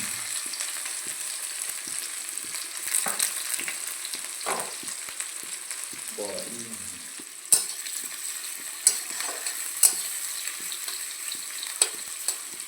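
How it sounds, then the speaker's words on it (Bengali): Onions fry in hot mustard oil in a pan for chicken curry, giving a steady close sizzle with occasional stirring scrapes and sharp utensil clinks. "এখন আমরা পেঁয়াজটা দিয়ে দিতেছি"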